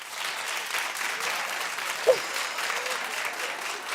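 Studio audience applause on a daytime talk show, a sustained, fairly soft wash of many hands clapping with a brief sharp sound near the middle.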